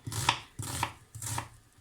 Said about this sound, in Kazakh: Енді қазір бірінші пиязымызды турап қуыра берейік